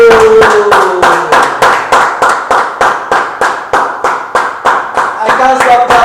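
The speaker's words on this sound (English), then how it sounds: "I can't stop clapping for her." Rhythmic, steady hand clapping at a cooking show's diabetes edition, loud and close with even beats throughout, while a voice speaks over the start and again near the end.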